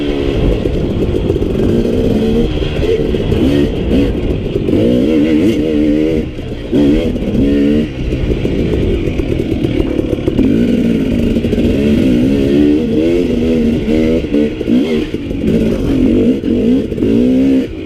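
A two-stroke KTM 250 XC dirt bike fitted with an FMF aftermarket silencer runs loud and close, its engine buzzing and revving up and down in continuous rising and falling sweeps.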